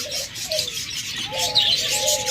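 Small pet parrots such as cockatiels, budgerigars or lovebirds chirp and call in short, overlapping bursts against a constant background hum.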